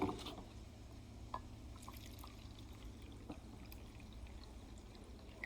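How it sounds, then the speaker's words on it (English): Water poured onto freeze-dried green kava trickles steadily and faintly over a low background hum, with a few small drips and splashes standing out, no speech. "And I'm gonna add the water."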